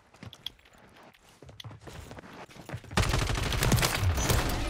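Gunfire in a Call of Duty match, with a burst of shots and clattering action that jumps to a loud, dense barrage partway through, amid game effects and players' excited voices.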